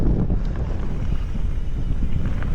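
Steady wind on a rough trail buffets the microphone in a continuous low, rough rumble that doesn't let up, with no voices.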